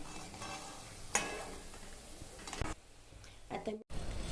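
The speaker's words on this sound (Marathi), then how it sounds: "आपल्याला लालवट बाटी तळून घ्यायच्या होत्या, लालवट अशा" Batis, round dough balls, fry in hot oil with a soft, continuous sizzle, broken by a few sharp clinks and scrapes of a utensil against the pan, close and fairly quiet.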